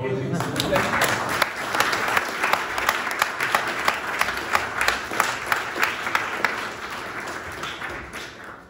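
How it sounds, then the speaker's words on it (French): An audience at a French-language science lecture in Belgium on exoplanets and Mars gives a speaker a warm welcome with steady, sustained applause. The clapping holds at an even level throughout and fades slightly at the end, with no voices standing out. "Et je vous propose vraiment de l'applaudir chaleureusement"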